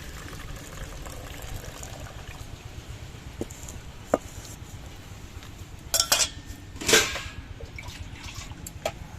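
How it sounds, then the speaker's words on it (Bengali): Mung dal is rinsed and the wash water tipped out of the vessel, giving scattered clinks, then two short splashing pours of water close by, with no voices. "মুগ ডালের প্রথম জলটা আমি ফেলে দিচ্ছি, এতে মুগ ডালটা ধোয়া হয়ে যাবে"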